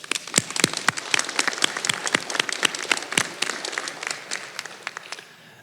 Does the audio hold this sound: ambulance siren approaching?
no